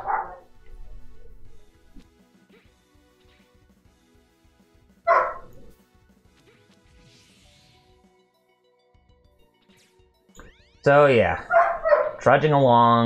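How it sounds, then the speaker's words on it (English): Young dogs bark and yip indoors in a house, a few sharp bursts early on and a louder run of barks near the end, while a person talks over a video game about trudging along. "I do apologize for the dogs barking"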